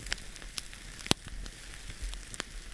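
Meat sears over a campfire, giving a soft steady sizzle with scattered sharp pops and crackles of the flame, close by and without talk.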